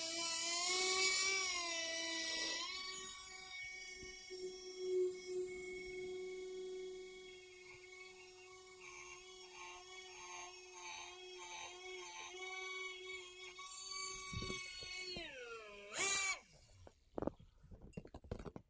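A power grinding tool blends corrosion on an aircraft wheel axle for Cessna Citation models, giving a high whining drill tone that shifts pitch repeatedly, with pauses and spin-downs and a sharp burst near the end.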